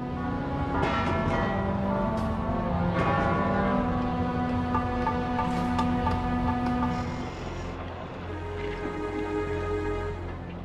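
A large church bell tolls repeatedly, loud and resonant with long ringing overtones, several strikes spaced a couple of seconds apart, heard alone without talk.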